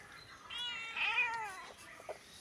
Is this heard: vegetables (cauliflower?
no